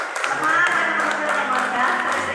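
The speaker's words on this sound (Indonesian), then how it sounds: "Puji Tuhan, berikan tepukan." At a student convocation ceremony, an audience claps steadily, a dense even patter with background voices and tones underneath.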